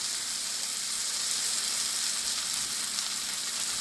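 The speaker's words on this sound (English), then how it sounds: "Hear that cheese sizzling in there?" Steady, close sizzling and crackling of cheese frying in a hot pan for a grilled cheese sandwich, a continuous bright hiss with no talking.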